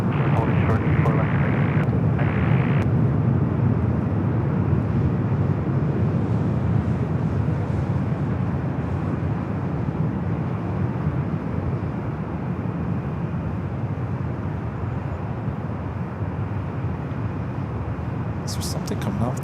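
Boeing 737 jet at Los Angeles LAX airport, its engines a loud, steady broadband roar filling the whole stretch, with a few brief higher-pitched accents near the start and end.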